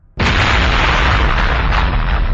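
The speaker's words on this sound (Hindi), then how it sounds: "तभी टोपो वजीटा पर एक हाकाई से धमाका करता है" A Hakai energy blast explosion from a Dragon Ball cartoon fight bursts in abruptly after a brief quiet moment and then holds as a loud, sustained, roaring rumble.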